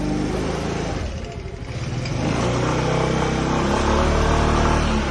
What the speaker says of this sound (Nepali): बाइक चाहिँ यता निकालिरहेछ।